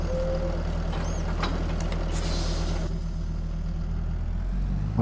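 A truck's air brakes hiss in a farming video game, a short burst of airy noise over a steady idling diesel rumble and a brief beep, loud and close with no talk.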